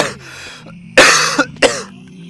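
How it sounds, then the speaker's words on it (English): Several sharp coughs close to the mic, a short cluster and then two more separated bursts, loud against a faint background hum. "Sorry if I cough and snort and do that shit a lot this episode"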